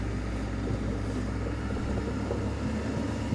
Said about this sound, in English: Gonna have to cross the street. Got a couple cars coming.